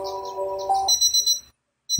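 Kstar ANJANK AC003 dual alarm clock playing its beep alarm tone: a steady electronic beep followed by a run of high pulsed chirps, then a sudden stop and a short silence before another sound begins.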